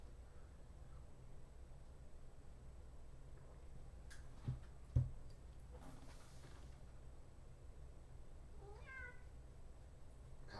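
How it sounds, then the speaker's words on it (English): A house cat meows in a short rising series near the end, after a couple of soft knocks, with a quiet room hum throughout and no talking. "Hi, kitty."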